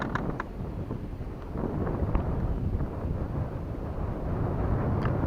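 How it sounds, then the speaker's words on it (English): Wind from hurricane remnants buffets an outdoor microphone on a crappie fishing outing, a loud continuous low rumble and roar that swells slightly, with a few faint ticks and no voices. "That's that wind remnants from the hurricane."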